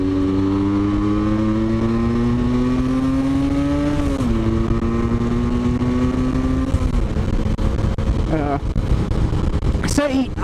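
A freshly rebuilt Yamaha RD125LC two-stroke motorcycle on a test ride holds a steady engine note, then shifts and climbs in pitch, loud and close under wind noise with a rider talking.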